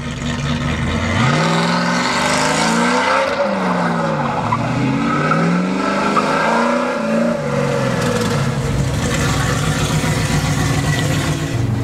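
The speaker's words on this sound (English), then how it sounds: "It is a loud, hard, brutish American muscle car." A 1970 Dodge Charger R/T supercharged American muscle car roars loudly and continuously, its engine note rising and falling through revs over a steady rumble, with some tire squeal, up close and without talk.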